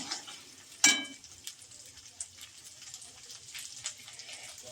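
Broccoli kachori filling being stirred in a pan: a sharp scrape of the spoon early on, then soft scattered scrapes and a faint sizzle, fairly quiet, with no talking.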